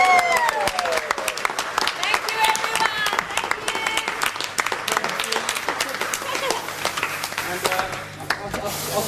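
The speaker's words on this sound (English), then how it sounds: "Give her a round of applause." Crew on a film set applauding a singer as her shoot wraps, dense steady clapping over about nine seconds with voices and crowd chatter mixed throughout.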